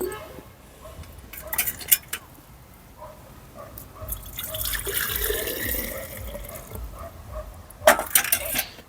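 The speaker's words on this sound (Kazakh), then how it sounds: "суға құямыз" Liquid fertilizer solution for garlic is poured into water, a close, continuous splashing and trickling that swells in the middle, with a few clinks of a container and brief quiet speech.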